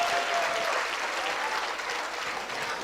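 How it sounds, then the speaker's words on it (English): An audience at a university convocation ceremony in Mumbai applauds steadily for a gold medal winner, a dense, even clapping that fills the hall without pause. "Clap louder, guys."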